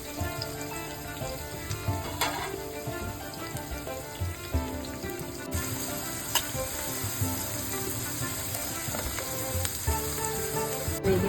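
Curry leaves, green chilies and onions frying in hot oil, a continuous crackling sizzle with intermittent stirring scrapes and small pops, close and steady throughout.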